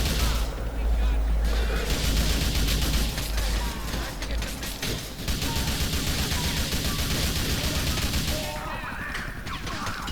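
Rapid gunfire rattles in the video game GTA Vice City, bursts of shots and impacts spread across the clip amid game sounds, with someone talking over the action.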